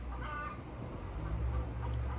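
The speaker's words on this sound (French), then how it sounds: "Il y a la poule du voisin qui vous dit aussi bonjour." A neighbour's hen clucks outdoors at moderate distance. Several short clucks come first, then a longer low run of clucking notes, fairly quiet over a background hum.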